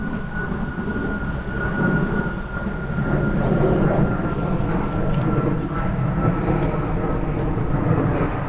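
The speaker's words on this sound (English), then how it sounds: "Let's just wait for this bloody aircraft." An aircraft passes overhead outdoors, a loud, continuous low roar with a steady droning tone that swells slightly and stays broad and rumbling throughout.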